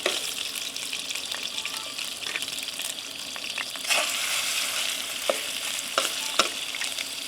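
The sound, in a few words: catfish searing on a campfire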